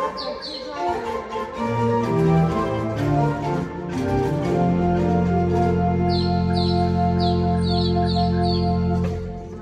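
A mechanical nightingale whistle warbles in short chirping trills over a sustained organ-like drone, close and steady.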